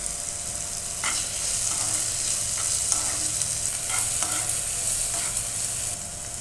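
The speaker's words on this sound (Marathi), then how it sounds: "आता याच्यामध्ये एक बारीक कट करून घेतलेला टोमॅटो घालून घेऊया" Finely chopped tomato, two green chillies and salt frying in a pan for paneer bhurji, a steady close sizzle with repeated stirring scrapes layered on top, continuous and fairly loud with no talk.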